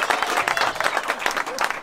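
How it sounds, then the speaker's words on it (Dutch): Outdoor crowd applause for volunteers at a King's Day celebration, a brief burst of many hands clapping briskly and close. "Dus super, ontzettend applaus."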